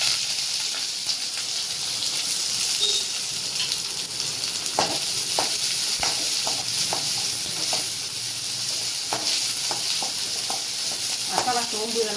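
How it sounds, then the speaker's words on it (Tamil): Small onions and curry leaves frying in hot oil for a chicken liver pepper fry, a steady close sizzle with scattered crackles and pops that grow busier toward the end, with no one talking. "எண்ணெய் காஞ்சதும் சின்ன வெங்காயம் கொஞ்சம் கருவேப்பிலை போட்டுக்கலாம்."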